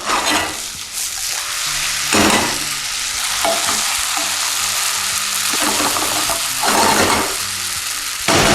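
A vegan tofu omelette with spinach sizzles steadily in a hot pan. A few louder scraping bursts suggest a spatula flipping it, with no voices.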